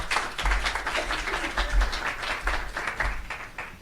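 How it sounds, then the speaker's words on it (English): An audience claps for a speaker named Maria taking the stage at a Global Connectors+SocialGood innovation event, a moderate, uneven patter of hands with a few louder swells, steady throughout. "Please give her a round of applause."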